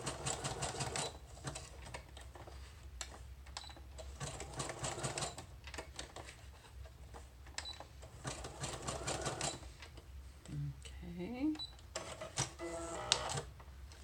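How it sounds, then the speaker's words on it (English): A sewing machine stitches paper journaling cards in short, rapid bursts of mechanical whirring, faint and close, separated by brief pauses and a few quiet handling sounds. "I'm just going to sew these parts in the middle that are left open and hanging there"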